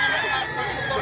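A Tiger Hats Hini gamecock crows close by in a brief, loud cry.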